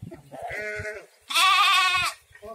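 Two bleats from a young lamb, the second louder and longer, sounding close by with brief pauses between calls.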